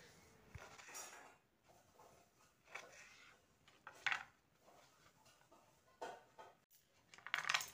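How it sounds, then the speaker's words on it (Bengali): A knife chops radish into thin strips on a board, giving soft, irregular clicks and taps with a few sharper metallic knocks, fairly quiet and unhurried. "তারপর মূলোগুলোকে সরু সরু করে একটু কুচিয়ে নিচ্ছি।"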